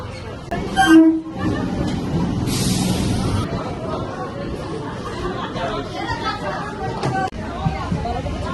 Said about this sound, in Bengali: থাক, ট্রেনও ঢুকছে।